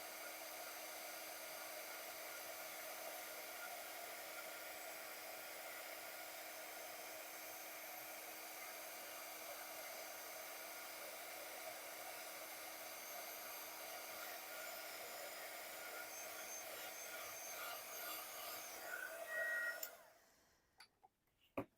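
A hot handheld heat gun blows with a steady, even whirring hiss, used for Christmas-season paper crafting. It runs alone for about twenty seconds, then cuts off, followed by a few faint clicks.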